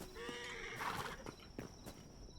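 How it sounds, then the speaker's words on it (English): Skeleton horse from the video game Hytale, shut in on a farm, neighing in a short wavering whinny with a few soft hoof-like knocks, alone and at moderate distance. "our skelly horse is trying to get out."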